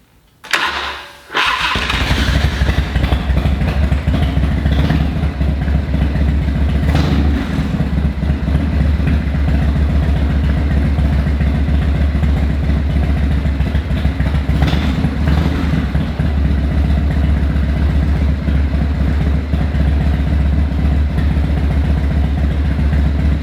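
A 1992 Harley-Davidson Low Rider FXRS-SP motorcycle starts after a short crank and settles into a loud, steady, close-up idle that runs uninterrupted.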